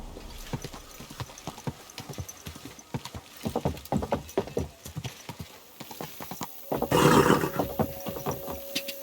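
A horse clip-clops along at an uneven walking rhythm in the medieval game Kingdom Come Deliverance 2. The hoofbeats are clear and close, and a brief burst of louder noise comes near the end.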